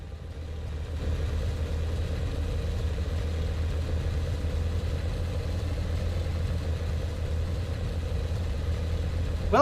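A steady amphibious vehicle engine in the video game Enlisted, running at a constant, unhurried pace with a deep low rumble and faint clatter throughout, without revving up, and a brief sharper noise at the very end.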